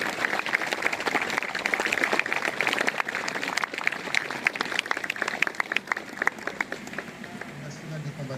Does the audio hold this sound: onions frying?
no